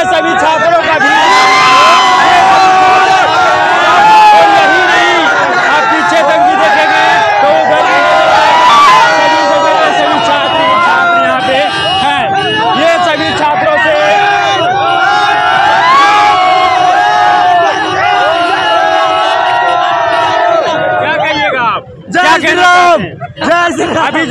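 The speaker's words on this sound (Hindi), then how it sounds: "सभी लोग अभी सड़क पर उतरे हुए हैं, सभी महाकाल का ये भीड़ लगा हुआ है" Dense crowd of Mahakal devotees filling a street at Korra Chowk, Hazaribagh, during a rally: loud continuous cheering, shouting and chanting with music, briefly dipping near the end, with someone talking over it.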